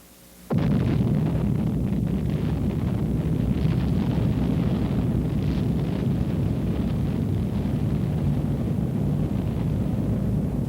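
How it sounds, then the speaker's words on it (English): The first hydrogen bomb test explosion at Eniwetok in 1952 begins abruptly after a quiet moment and becomes a loud, sustained roaring rumble that continues with steady force and no voices. "The first hydrogen bomb test."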